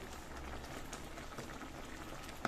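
Vegetables cooking in a pot for a weight-loss oats recipe give off a soft, continuous bubbling and sizzle, close and quiet, with no talk.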